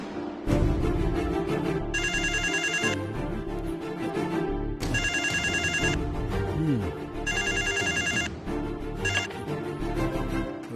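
A telephone at an electricity office rings in three bright electronic bursts, each about a second long with gaps between them, over background music and low voices.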